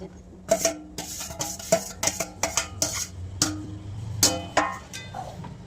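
A spoon stirs onion and paneer in masala in a pan, giving a quick run of close metallic clinks and scrapes against the pan in an uneven, busy rhythm.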